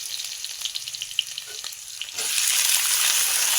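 Onions frying in oil with chilli and five-spice, a steady close sizzle that jumps sharply louder and denser partway through, with scattered crackles and pops.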